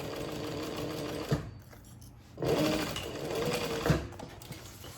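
A sewing machine stitches a backpack with steady mechanical whirring, pausing briefly in the middle before running again, close and fairly loud.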